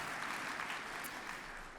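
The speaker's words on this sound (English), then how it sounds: "Give yourselves a round of applause." Conference audience at the Western Conservative Summit clapping together, a faint, distant, steady patter of applause that tapers slightly toward the end.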